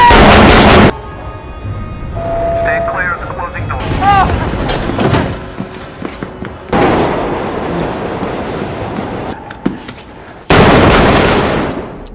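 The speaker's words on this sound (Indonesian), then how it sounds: "Yang membuat Arthur menembak ketiga pria itu hingga tewas." Gunfire from a scene in the 2019 film Joker, heard as loud, sharp bursts of shots at the start and end that cut in abruptly, with quieter passages of voices and music in between.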